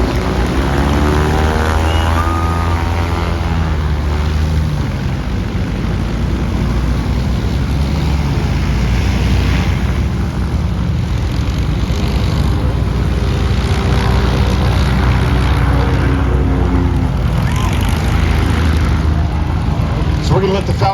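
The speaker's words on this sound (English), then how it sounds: "We're going to let the Falcon Flight guys taxi by so that you can hear." Formation aircraft taxiing past at an airshow, a steady droning engine and propeller rumble that holds loud and close throughout, with crowd noise and possible voices blended underneath.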